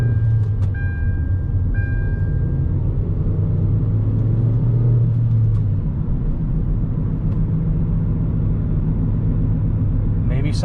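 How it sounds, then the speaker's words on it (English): A Hyundai that sat unused for years, driving with a noisy wheel bearing: a constant low rumbling drone from the road and drivetrain throughout, steady and fairly loud, with no clear speech. "Sounds like a wheel bearing."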